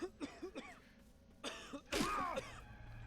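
Several harsh coughs and throat-clearing sounds in short bursts from toxic gas in the game Killer's Night, with a louder, longer cough near the end.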